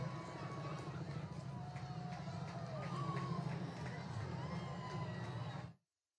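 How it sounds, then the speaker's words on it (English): Crowd gathered at Niagara for the April 8, 2024 total solar eclipse, a dense hubbub of many voices with cheering swelling and rising, people chattering and shouting close by until the sound cuts off abruptly. "you can hear the crowd erupting at various moments when the eclipse has been seen"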